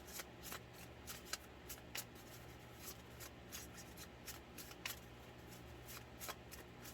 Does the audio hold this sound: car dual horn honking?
no